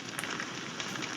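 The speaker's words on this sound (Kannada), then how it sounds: "ಮಳೆ ಬರ್ತೈತೆ" Rain falls steadily on an island, a soft, dense patter with crackling drops, fairly quiet and continuous with no voices.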